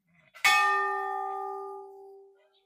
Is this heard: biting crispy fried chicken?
no